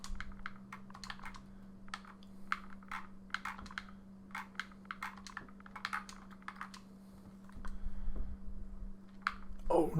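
Rapid typing on a computer keyboard while playing Ark Survival Evolved: close, crisp key clicks in uneven bursts over a steady low hum, with a brief muffled noise near the end.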